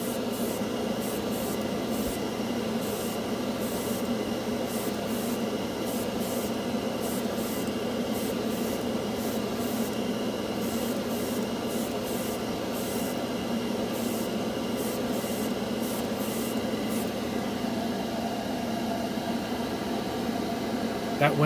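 An airbrush sprays candy colour paint in a steady airy hiss, a continuous close spray broken by faint repeated bursts, with a voice speaking over parts of it.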